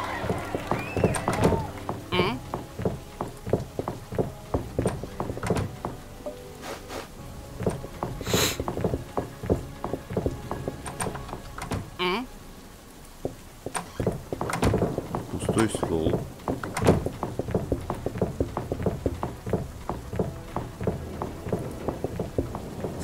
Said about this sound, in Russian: тут у нас гроза даже имеется. С вот таким вот реально качественным довольно-таки дождем.